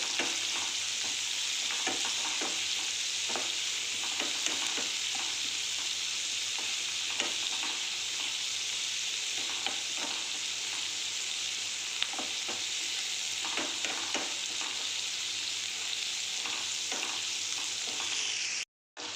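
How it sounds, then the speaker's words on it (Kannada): Salted onions frying in a pan for pepper chicken, a continuous close sizzle with repeated soft scraping and stirring ticks, cutting off abruptly near the end. "ಇವಾಗ ಈರುಳ್ಳಿ ಬೇಯ್ತಾ ಬಂತು"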